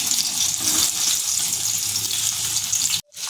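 Chopped tomatoes hit a hot pan of onions for a chutney, setting off a loud, broad hissing sizzle that holds steady for about three seconds before cutting off abruptly, with a faint clatter beneath and no talking.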